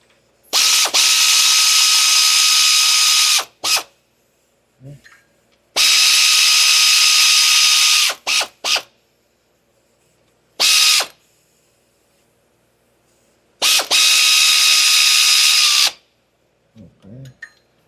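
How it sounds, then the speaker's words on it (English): A ratchet wrench works on the front wheel of a 2023 Genesis GV70 with seized front wheels, giving several loud bursts of rapid clicking, each lasting a few seconds, with short quiet gaps and a few lone clicks between them. "And then I'm just gonna use a ratchet."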